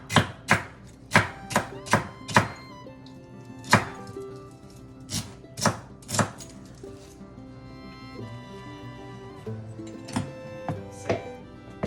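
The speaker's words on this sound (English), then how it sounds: "So we peel all this, peel all the ingredients and cut it." Knife chopping peeled vegetables for chicken soup on a cutting board, a run of sharp, close, evenly spaced thuds that slow into softer, scattered cuts with light clatter between strokes.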